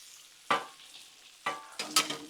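Cabbage and rendered fat cooking on low heat on a Blackstone griddle, heard as quiet frying broken by sharp sizzling bursts as a spatula stirs, one near the start and a cluster of three toward the end.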